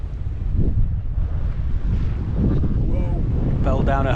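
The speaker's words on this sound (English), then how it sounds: "Ooh, bit windy." Strong wind buffets the microphone on a breezy Irish beach at Dogs Bay, with surf rumbling underneath and a voice speaking briefly near the end.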